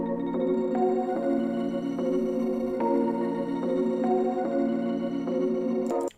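Dark, creepy trap melody from an atmospheric synth preset with light saturation, built in FL Studio: sustained pad-like chords shifting every second or so, steady and loud with no talking, ending abruptly.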